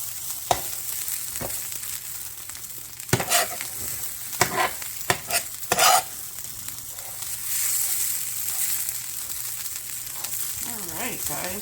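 Scattered hash browns fry on a flat griddle with a steady, close sizzle, broken by several sharp scraping and stirring knocks from a spatula.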